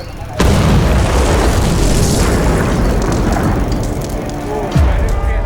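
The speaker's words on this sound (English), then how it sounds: "Members of a secret revolutionary society with links to the Tongmanhui are making bombs when there's an explosion." Deep booming blast of an accidental explosion as revolutionaries assemble bombs, starting suddenly and roaring on loudly for several seconds with rumbling debris, a second low thud near the end.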